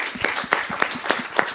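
A conference audience claps for the speakers of a media talk, a brief burst of applause with a few distinct, rhythmic claps standing out near the front.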